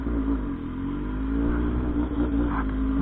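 A Honda Hornet motorcycle fitted with a modified exhaust runs with a loud, steady, deep engine rumble and slight rises in revs throughout. No one talks.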